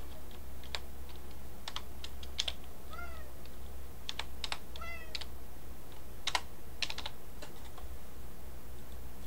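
Rapid keystrokes clatter on a computer keyboard while codes for the Club Penguin game are typed in, with bursts of close, sharp clicks in irregular clusters over a steady low hum and a few faint cat-like chirps.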